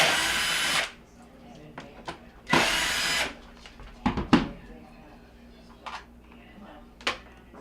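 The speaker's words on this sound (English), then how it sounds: "I'm going to remove the rest of the screws" A power drill backs screws out of a dishwasher's control panel in short whirring bursts, two long and several brief, with small clicks and handling knocks between them.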